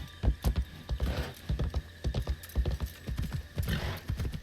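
Horse hooves clip-clopping at a brisk, rhythmic gait through Japanese countryside in Assassin's Creed Shadows, close and distinct, each footfall a sharp thud with faint tack jingle, no talking.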